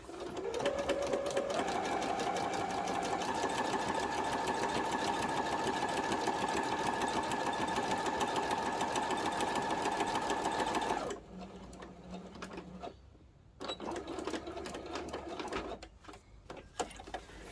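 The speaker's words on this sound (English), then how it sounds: "let's head over to the sewing machine and stitch that down" A sewing machine runs steadily in a fast mechanical whir for several seconds, then stops and restarts in shorter bursts, close by with no speech.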